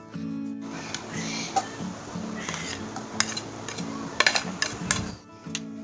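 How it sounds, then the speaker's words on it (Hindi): A knife cuts fresh strawberries into small pieces for homemade jam, giving a run of light, irregular chops and clicks against a board along with some clinks of kitchenware, all close up, with a low steady hum under it and no talk. "स्ट्रॉबेरी को इस तरह काट लेंगे"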